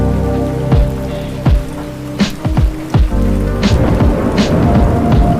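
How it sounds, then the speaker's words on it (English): Heavy rain pours inside a music track, a dense wash of falling water broken by several sharp cracks and swooping low thunder-like booms, loud and upfront with no voices. "it's raining like cats and dogs in it"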